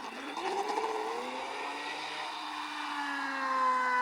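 A hobby-grade RC prop ski boat's motor whines steadily across the water, a high buzzing tone that rises and shifts in pitch as it speeds along at moderate distance.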